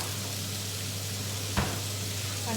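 Bacon frying in a pan while cooking Mongolian beef and fried rice gives a steady, soft sizzling hiss over a low constant hum, broken by one brief clatter partway through.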